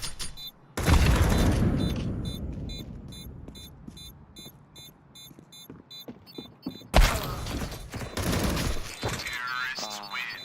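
A grenade detonates in a military shooter video game with a sudden loud boom that rolls into debris and rumble, followed by a second heavy blast and crackling gunfire amid game music.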